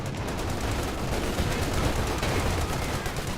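Dense, continuous gunfire and battle noise in the strategy game Company of Heroes 2, with steady rattling shots under a thick wash of combat sound and no clear pauses.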